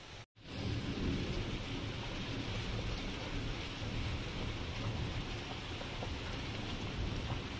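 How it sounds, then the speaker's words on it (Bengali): Heavy rain pours down at a home in hot weather, a steady dense hiss with low rumbling thunder beneath it, continuous and without voices after a brief break at the start. "আর এদিকে দেখো বৃষ্টি এসে গেছে, ঝমঝমিয়ে বৃষ্টি এসছে।"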